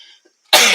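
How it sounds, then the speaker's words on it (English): A woman gives a single sharp, loud cough at close range after a moment of near silence. "I'm still coughing."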